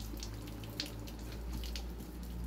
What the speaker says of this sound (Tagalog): Alagyan natin ng tubig para makainom kayo.